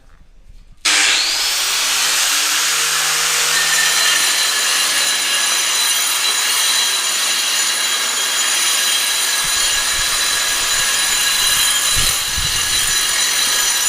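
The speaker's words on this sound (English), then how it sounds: "I'm just letting the grinder do the work. And I've got it wet." Wet tile grinder cutting through tile, a loud steady broadband whine with high tonal hiss that starts abruptly after a second of quiet and runs continuously, close and unbroken.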